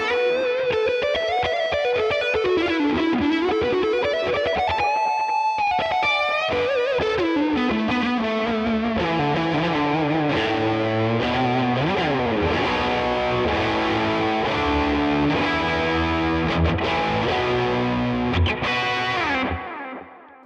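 Electric guitar plays a fast, bending lead lick through a heavily distorted Modern Lead amp plugin preset with chorus-like effects, sustained and loud throughout before stopping near the end.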